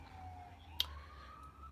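A siren wails faintly in the distance, a thin steady tone that rises slightly in pitch and is briefly interrupted by a click.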